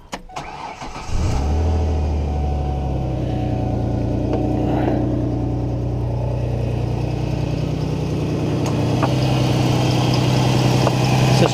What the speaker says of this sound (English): We'll start the car back up, make sure there's no squeaks and it doesn't fall off its pulley.